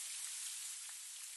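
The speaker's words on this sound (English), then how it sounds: "The soothing sound of soft rain" Soft rain falls as a steady, faint, even hiss of fine droplets, with no voices over it.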